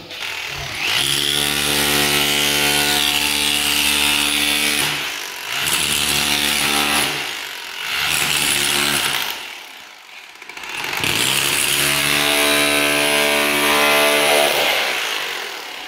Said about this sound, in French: on est équipé avec notre super burin plat et on va voir ce que ça donne